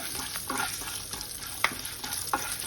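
Mustard seeds, cumin, green chillies and dried red chillies frying in oil, a quiet steady sizzle with occasional sharp pops and a few stirring scrapes, close but faint.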